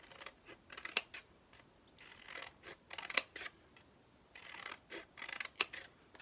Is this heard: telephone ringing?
no